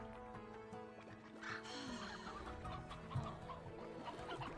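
Chickens in the video game Slime Rancher cluck in short, repeated bursts over steady tonal game music, moderately close and fairly loud throughout.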